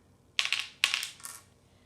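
A pair of dice are rolled for a counting game, giving three quick clattering bursts of bouncing and rattling that fade into stillness. They are close and clear, with no talking.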